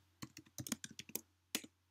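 Keystrokes on a computer keyboard while typing code, a quick uneven run of about a dozen sharp clicks with a short pause before a final burst, close and clear over a low steady hum.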